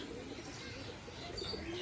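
Domestic pigeons, tournament-flown birds still bearing stamps, coo softly and continuously in a loft, with a low murmuring drone and a few brighter chirps near the end.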